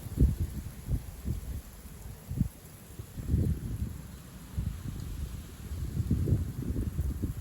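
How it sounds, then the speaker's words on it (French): Wind gusts in a brief, wet snowstorm during a mild spell, low buffeting rumbles on the microphone that rise and fall in uneven bursts, close and without talk. "Avec les rafales de vent, ça fait assez impressionnant là"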